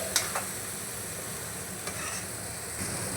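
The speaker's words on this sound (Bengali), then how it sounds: "এবার বন্ধুরা মশলাটাকে একটু আমি কষিয়ে নেব।" Spice paste with turmeric sizzles steadily in a pan while being stirred, a constant frying hiss broken by a few sharp scraping clicks of the spatula, close and without talk.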